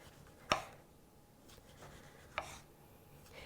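A knife cuts through a tomato on a cutting board while salad is prepared, two crisp, faint slicing taps spaced well apart against a quiet room.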